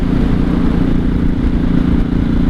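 A 1983 Honda Shadow VT750C project bike with straight pipes riding on back roads, its engine a loud, steady, throbbing drone that fills the whole stretch without a break, no voices over it.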